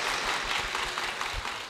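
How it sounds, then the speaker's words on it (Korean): A church congregation claps to welcome a guest, a teacher and church deaconess, onto the stage at Jecheon Seongdo Church: a short burst of close, dense, steady applause with no break. "김수정 권찰님 박수로 모시겠습니다."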